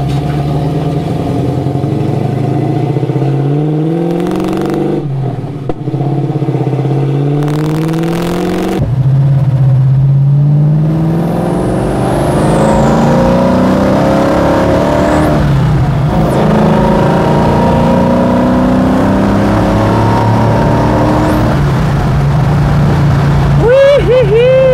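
Car engine with an HEI distributor revving hard toward 4,500–5,000 RPM while driving, rising harmonic pitch sweeping up repeatedly through gear pulls, loud and continuous with brief drops between shifts.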